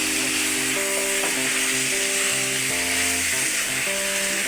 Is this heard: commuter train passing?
no